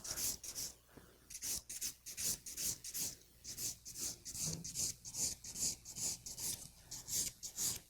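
An acrylic nail file rasps in quick, even back-and-forth strokes while beveling sculptured square acrylic nails, a close, soft scratchy rhythm of about two strokes per second.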